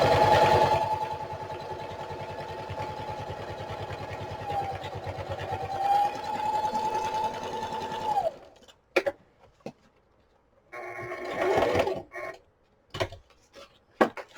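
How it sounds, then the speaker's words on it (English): A sewing machine runs a straight stitch around the border of an oversize matchbook-style notepad, with a steady, close motor whir and rapid needle pulses for several seconds. Scattered handling knocks and rustles follow after it stops. "I'm just doing a straight stitch all the way around the border,"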